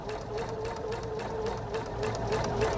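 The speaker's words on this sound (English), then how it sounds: "It's going to take a stitch, and then we're going to sew." A sewing machine runs steadily, stitching a paper-pieced star quilt block along a marked line, with a close, continuous mechanical whir and a rapid needle rhythm throughout.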